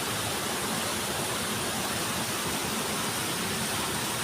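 Water from a spring-fed pool at Ban Tao Ngoi flows steadily, a broad, even rushing hiss that holds constant throughout without pauses or voices.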